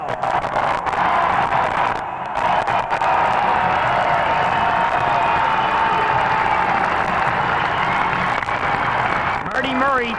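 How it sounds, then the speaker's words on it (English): A hockey arena crowd at the final game of the Calder Cup season keeps up a loud, sustained ovation of cheering and roaring, with an announcer talking over the din throughout. "and indeed, that is not the case, and it is still a prolonged ovation"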